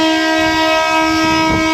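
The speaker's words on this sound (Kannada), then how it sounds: "ಇದೇ ಟ್ರೈನೇ ನಾವು ಬಂದಿದ್ದು." A loud horn blares from a passenger train near Doddaballapur in the rainy season, heard close and sustained with rumbling rail noise underneath.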